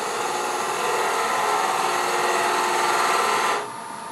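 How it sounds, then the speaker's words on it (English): A woodturning lathe spinning at about 1100–1200 rpm while a tool bores a hole on center in a turned wood pedestal box. Steady, close, buzzing hiss and whir that stops abruptly near the end, leaving a softer hum. "Anchor the tool, and I'm just going to drive a hole in here."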